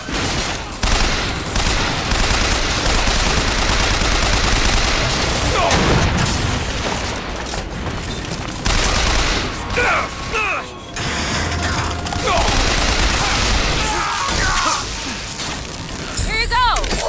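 Rockets and gunfire in Bioshock Infinite: a dense, continuous roar of blasts, mechanical clatter and booms runs for the whole stretch, with brief dips and a voice speaking over parts of the chaos.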